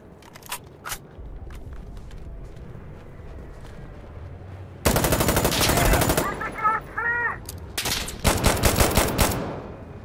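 Bursts of automatic gunfire and single shots in the realistic first-person shooter Insurgency: Sandstorm, loud and close, with quieter distant shots at first, then heavy firing in the second half.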